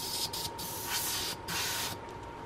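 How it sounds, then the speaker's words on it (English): A compressor-fed spray gun hisses steadily as it sprays Green Stuff World chrome paint at about 10 PSI, a loud, close, continuous spray broken by a few brief pauses. "I've got my air compressor down to about 10 PSI."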